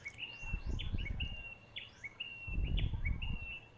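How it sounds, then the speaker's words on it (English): An outdoor bird sings faint, repeated thin whistled notes at a steady rhythm over low rumbling background noise. "Listen to that bird."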